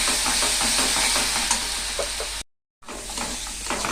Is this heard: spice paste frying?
yes